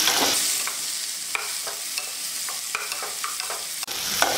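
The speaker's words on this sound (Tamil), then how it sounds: "முள்ளங்கி தக்காளி நல்லா வதங்க வரைக்கும் வதக்கி விடுங்க" Radish and tomato sautéing in a pan for chutney, a steady sizzle broken by repeated scraping and stirring strokes of a spatula, close and clear with no voices.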